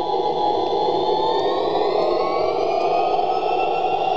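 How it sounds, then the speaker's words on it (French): Steady, loud jet engine roar from a Boeing 777-200 during takeoff in the FlightGear flight simulator, a continuous whine and rumble with a slowly rising pitch and no talk. "Si vous voulez regarder les moteurs, ce moteur là il va changer pendant le décollage."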